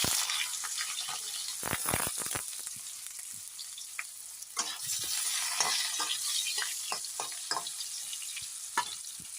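Eggplant frying in hot oil in a kadai, with a steady close sizzle broken by sharp crackles and pops as pieces are stirred and turned; no talking.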